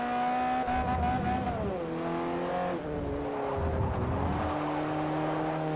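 A Citroen race car engine in Forza Motorsport 4, loud close revving with rising and falling engine tones through gear changes and brief tire squeal.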